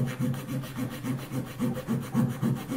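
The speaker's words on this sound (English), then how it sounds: "just want to show you how easy this plastic is cutting with the saw on this multi-tool" A multi-tool saw blade cuts through the plastic housing of a pair of binoculars in a steady rapid back-and-forth rasp, close and fairly loud, with rhythmic strokes repeating about three times a second.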